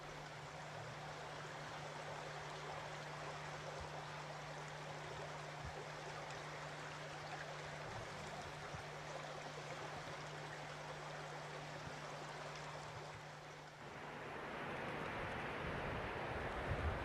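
Cannon River water flows in a steady, continuous rush, broadband and unbroken for the whole stretch, with a low hum beneath and a slight swell in the moving water near the end.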